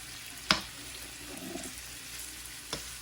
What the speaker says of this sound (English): The bacon's cooking.